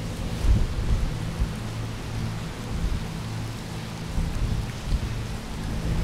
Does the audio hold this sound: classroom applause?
no